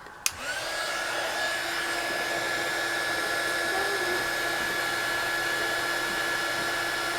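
Embossing heat tool switched on with a click and blowing steadily over die cut keys, a constant close whirring hum with a thin tone, running without a break.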